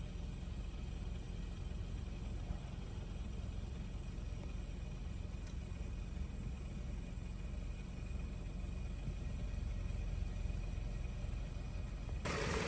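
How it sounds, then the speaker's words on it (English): Inside a car on the move, the engine, at 23,000 miles and treated with a friction-proofer restorative, makes a low, steady, quiet rumble with faint road noise. No one speaks over it. "This is the sound in the car."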